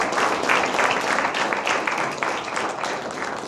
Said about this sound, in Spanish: Dense un fuerte aplauso por ese logro de aquí